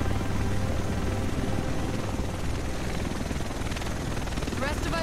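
Helicopter in the video game Tom Clancy's The Division, a loud continuous rotor roar filling the scene with game voices speaking over it.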